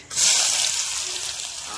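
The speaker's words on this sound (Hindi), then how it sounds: "और इन सबको भून के कर ले रही हूँ लाल" Sliced onions fry in hot oil with dried red chilies and spices, giving off a loud, close, continuous sizzle that flares up as they hit the pan.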